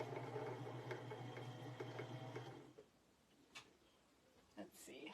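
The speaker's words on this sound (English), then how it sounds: "I'm not gonna fill this bobbin all the way." A home sewing machine's motor hums steadily while winding a bobbin, close and even, then cuts off partway through, leaving faint clicks and handling noises.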